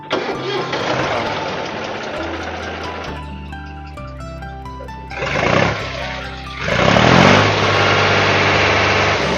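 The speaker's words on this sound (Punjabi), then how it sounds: "ਟਰੈਕਟਰ ਸਟਾਰਟ ਕਰ ਭਰਾ ਆਵਾਜ਼ ਸੁਣਾਈਏ ਟਰੈਕਟਰ ਦੀ" A 2003 Holland 3630 tractor engine cranks, catches and settles into a deep idle, then revs up twice with a rising roar, loud and close.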